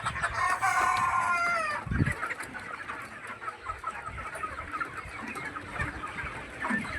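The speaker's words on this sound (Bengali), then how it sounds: "চলো তাহলে এবার ওপরে গিয়ে ছোটো মুরগিগুলো কি করছে দেখা যাক" Young chickens at a poultry coop: a rooster-like crow and clucking open the scene, followed by scattered, softer clucks and cheeps from the birds nearby, with no voices.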